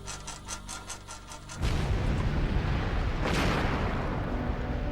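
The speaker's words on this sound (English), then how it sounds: "came the first massive explosion of steam and ash" A massive volcanic eruption blasts out steam and ash, a sudden loud broadband roar that sets in after a quieter opening and keeps rumbling and hissing without a break.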